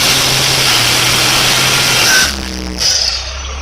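A Dodge Cummins truck with a bad transmission, its engine warming up: a loud steady drone with a whining tone that drops off sharply partway, then a lower idle with a brief rise, no talking.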